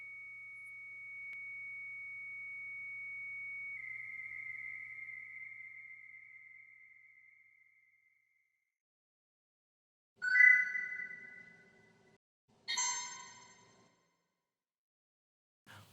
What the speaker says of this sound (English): I'll start the track, and then I'll switch the 64 modem over to data mode.